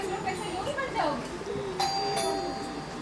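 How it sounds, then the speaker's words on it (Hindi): A doorbell rings at a home on a Sunday morning, its chimes sounding over a steady background with a brief second ring, as a woman calls out and voices talk around it. "घंटी तोड़ देगी क्या"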